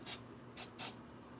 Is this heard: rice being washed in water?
no